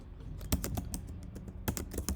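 Code being typed on a computer keyboard during a Java coding session, a quiet, irregular patter of key clicks with small bursts and pauses, close and alone without talk.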